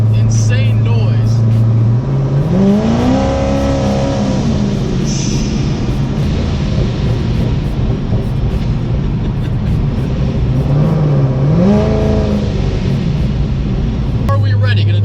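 Corvette Z06 of about 1,000 horsepower downshifting, engine loud and near, with rising rev blips as gears drop and a steady heavy roar between them, and people talking over it.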